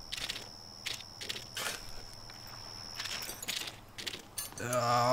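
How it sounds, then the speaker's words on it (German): Chopping wood in the video game Yonder gives a series of crunchy, irregular chop strikes over a steady game ambience. A brief tonal chime sounds at the end. "Schön Holzhacken."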